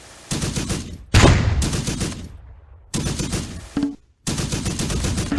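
Sustained bursts of machine gun fire from the Close Combat war video game, loud dense rattling volleys broken by a sharp blast and brief silent gaps, with no talk over the shooting.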